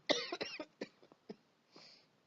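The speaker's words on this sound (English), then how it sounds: "of course, I'm gonna cough a lot" A person coughs in a quick cluster of several hacking bursts, close and fairly quiet, followed by a couple of smaller coughs and a soft breathy exhale.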